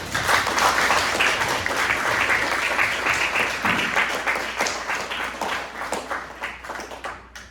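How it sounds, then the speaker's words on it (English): An audience gives a round of applause for the panelists at a STEM discussion panel. The clapping starts full and close, then thins into scattered individual claps as it fades. "Everyone, please give a round of applause for our panelists today."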